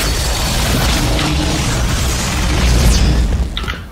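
A loud roaring burst from a fire ability in the shooter game Valorant, a dense rumbling explosion that holds for several seconds and then tails off, with a brief higher crackle near the end.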